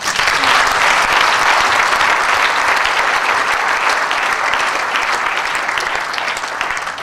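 Loud, sustained applause from a church congregation at a convention, continuous clapping that eases slightly toward the end.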